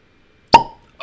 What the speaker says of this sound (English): That may have been the best live uncorking pop.